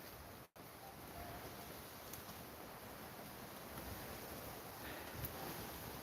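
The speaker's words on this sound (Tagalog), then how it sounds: "Ang lakas ng hangin dito." Steady broadband wind rushes and buffets against the microphone on a mountain top, a continuous low roar with a brief dropout near the start.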